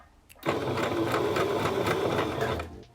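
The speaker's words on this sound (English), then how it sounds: "So I'm going to show you guys exactly how I'm sewing." A sewing machine running a 0.5 cm stitch along a bodycon dress, starting abruptly and humming in one steady, close, busy run of about two seconds before stopping, with no talking.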